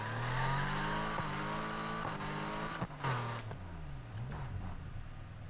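A BMW M3 engine in Need for Speed Heat, revving and droning with rising and falling pitch as the car accelerates and shifts, loud and up close with a brief squeal mid-run.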